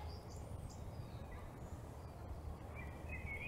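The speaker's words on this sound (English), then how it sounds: "It's amazing to hear these birds here" Birds singing in a Finnish forest, faint scattered chirps and short high calls over a quiet low ambient rumble, distant and soft.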